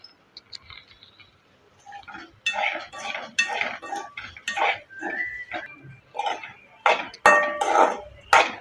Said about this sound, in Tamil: சேர்த்துட்டு இப்போ வாழைக்காய்க்கு தேவையான உப்பு சேர்த்து கிண்டி விட்டுக்குங்க.